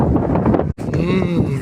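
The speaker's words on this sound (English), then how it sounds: "Wow, it is really windy out here today." Strong wind gusts buffet the microphone on a beach in Salvador, Bahia, making a loud, rumbling roar. It breaks off briefly for an instant, then returns, with faint tonal sounds in the background.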